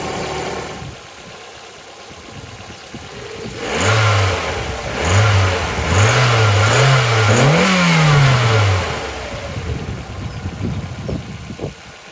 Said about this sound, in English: Let's give it a few revs and see what happens.